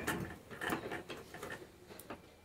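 A sewing machine stitches along a folded fabric hem with a rapid mechanical ticking and whirring rhythm, close and fairly quiet, with no talk.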